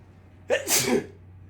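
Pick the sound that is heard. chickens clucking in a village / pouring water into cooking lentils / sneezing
sneezing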